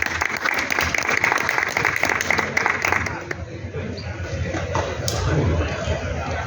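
An audience at the FIL 2024 book fair gives a manga talk dense, rapid applause that lasts about three seconds. It then fades into room murmur and a voice.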